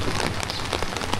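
Steady rain pours down continuously, a dense close hiss of drops striking surfaces with no letup and no voices.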